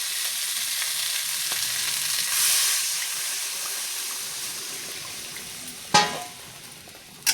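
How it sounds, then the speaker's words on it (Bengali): Spice paste for a hilsa and eggplant curry sizzles steadily in a hot pan, then a sharp, loud hissing burst erupts as water is poured in, quickly settling back to a softer bubbling sizzle; no one speaks. "মশলাটা সুন্দর করে কষানো হয়ে গেছে, এখন আমি জল দিয়ে দেবো।"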